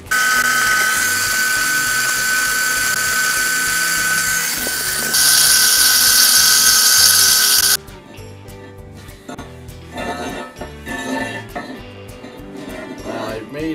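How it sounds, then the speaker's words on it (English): A loud, steady high-pitched drill whine boring a hole in metal for a small hydraulic press runs for several seconds, then cuts off, leaving quieter clattering and workshop noise. "Drilling a hole there"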